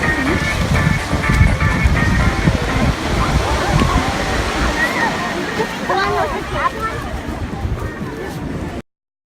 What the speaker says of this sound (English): Well, here we are at the beach.